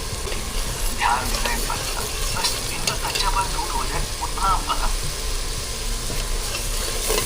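Raw jackfruit curry stirred in a pan after adding chili powder, a steady low sizzle and scraping running continuously throughout, moderately loud and close.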